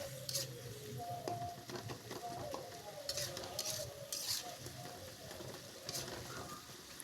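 Garlic and coriander leaf paste being stirred into frying fish masala, a soft sizzle under scraping spoon strokes and occasional clinks against the pot, fairly faint with a few bursts of rattling.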